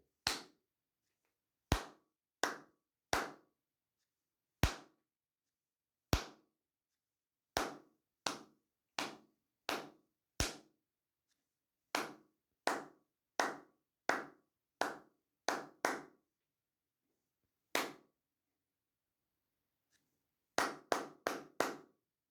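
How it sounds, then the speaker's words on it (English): Sharp hand claps tapping out an uneven rhythm, single claps and quick clusters separated by pauses, close and clear against silence. "Now I'm going to clap the rhythm,"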